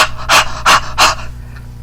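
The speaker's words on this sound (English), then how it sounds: "Then I'm going to huff on this stamp" Three forceful huffs of breath blown onto a rubber stamp to moisten it come in an even rhythm about every 0.4 seconds, each a close, loud, breathy burst, followed by quiet.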